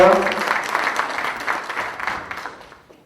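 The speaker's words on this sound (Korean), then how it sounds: "동의하시면 박수 한번 주시기 바랍니다" An audience at a Democratic Party training session for local government heads applauds, a loud burst of many hands clapping that gradually thins and fades over a few seconds, with a voice at the start.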